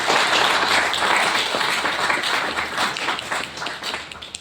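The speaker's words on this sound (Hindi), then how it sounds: "हर feed forward के बाद एक तालियां होनी चाहिए" A group claps in sustained applause after a presentation, dense and steady at first, then thinning and trailing off toward the end.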